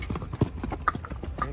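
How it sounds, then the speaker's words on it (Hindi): A walking mare's hooves clip-clop in a close, steady rhythm of distinct knocks on the ground, with no speech over them. "चल रही है, बहुत चल रही है घोड़ी, ना चल रही है, एक साथ चल रही है घोड़ी बिल्कुल"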